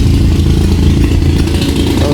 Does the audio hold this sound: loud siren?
no